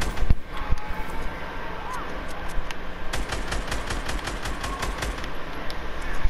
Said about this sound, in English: Are you hearing these shots?